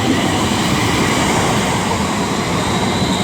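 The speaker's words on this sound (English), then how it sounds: "now approaching will be the 1219 London Northwestern Railway service from London Euston to Crewe" A London Northwestern Railway service from London Euston to Crewe arrives at Milton Keynes Central on the West Coast Main Line, its loud, steady rumble and rolling rail noise filling the platform without a break.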